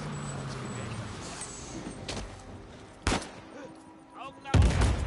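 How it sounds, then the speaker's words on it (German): Grenade thrown and detonating in a video game, heard as several sharp bangs spread over a few seconds, the last one the loudest and closest, against quiet game ambience. "den pfeffern wir gleich mal eine Granate oben rein"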